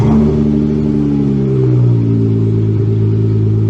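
A 2016 Dodge Challenger SXT with stock headers, factory X-pipe, rear mufflers removed and single chamber V-tube mufflers revs loudly up close, its deep droning engine note rising then settling back.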